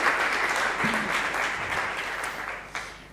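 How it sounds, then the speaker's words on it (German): A conference audience at a tourism camp in Bonn applauds the sponsors: a steady, dense wash of many hands clapping that holds for the whole stretch, with a brief voice murmur in the middle. "Also dann ein Applaus für die Sponsoren bitte von allem."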